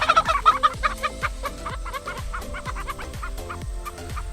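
Several hens clucking close by in a steady run of short, repeated calls, agitated and scattering, with no talk over them.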